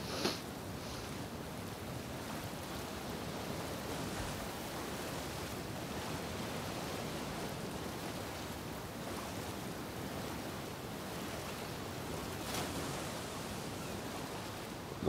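Waves crashing against rocks in the video game Rise of the Ronin, a steady, even roar of surf that fills the whole stretch without any talk.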